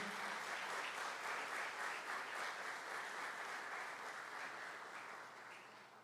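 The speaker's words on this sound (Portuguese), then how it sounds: "quer aplaudir ao Senhor? Pode aplaudir." A church congregation applauds steadily, dense clapping from many hands that holds for several seconds, then gradually fades.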